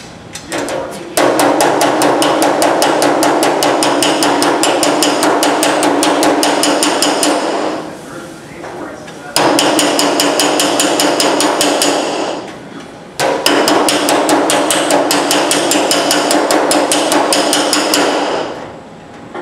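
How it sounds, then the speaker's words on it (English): Sheet metal being worked with a slapping spoon, rapid loud metallic slaps in three long sustained runs separated by short pauses, close and with nothing else over it. "So push up on it, do your hammering."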